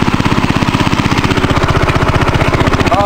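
A Cub Cadet lawn tractor engine labours steadily up a hill, a loud, close, rapid even chugging pulse running throughout with no talk over it.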